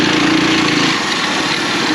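A small bike engine with a 30 series torque converter idles at about 1600 rpm, giving a loud, steady buzzing drone with a fixed tone that eases slightly partway through, up close with no talking.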